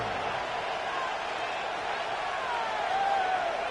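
A football stadium crowd at a Titans game roars steadily on third down, a broad, distant wash of cheering and whistles that holds at an even level and swells slightly toward the end.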